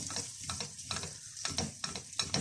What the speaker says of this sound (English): got a warm pan, we're going to put some butter in it.